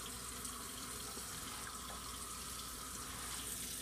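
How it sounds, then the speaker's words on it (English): Tap water runs steadily into a sink while hands are rinsed in a home kitchen, a constant soft hiss with no break. "And then rinse your hands off really good."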